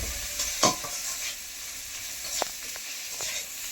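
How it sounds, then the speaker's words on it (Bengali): Onions frying in a pan for a river fish curry give a soft, continuous sizzle, broken by a couple of sharp scrapes of a spoon stirring them close up. "পেঁয়াজ ভালো ভাজা হয়ে গেছে"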